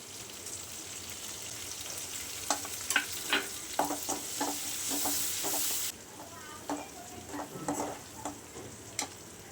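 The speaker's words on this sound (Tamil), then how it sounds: "கருவேப்பிலை நல்லா பொரிஞ்சதும் இடித்து வச்சுருக்க 5-6 பல் பூண்டு, 2 பச்சை மிளகாய் சேர்த்து நல்லா வதக்கி விட்டுறலாம்." Crushed garlic and green chilies sauté with curry leaves in hot oil for fish 65 gravy, giving a close, steady sizzle. Repeated scraping stirs of a spatula in the pan sound over the sizzle, which softens partway through.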